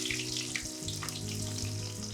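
Sliced onion sizzles in hot oil with popped mustard seeds, a steady, close frying hiss with faint stirring scrapes, heard alone with no talking.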